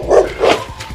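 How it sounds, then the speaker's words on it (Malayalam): A dog at a house compound gives two loud, close barks in quick succession, followed by a fainter third yelp, with no talking. "അത് ചേരുവിന്റെ വീട്ടിലെ പട്ടിയില്ലേ? ഇത് കോമ്പൗണ്ടിൽ കയറിയ ഈ പട്ടീനെ നിന്നിങ്ങനെ നോക്കണം."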